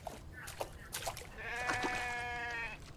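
A goat bleats in a video game, a wavering, harmonic cry held for over a second midway through, over faint background noise and brief voice-like sounds.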